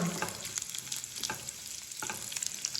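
Raisins and nuts frying in a pan for a sweet dish, a faint, continuous crackling sizzle with light stirring scrapes throughout.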